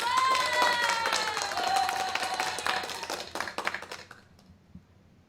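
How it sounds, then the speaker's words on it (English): An audience applauds to welcome a guest on a talk show. A short burst of clapping rises under a sustained tonal musical sound, then thins out and fades away. "give a warm give up applause for our guest tonight"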